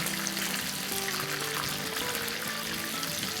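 Chicken pieces frying in hot oil for orange chicken give a dense, steady hiss of crackling bubbles, close and unbroken throughout, with no talk.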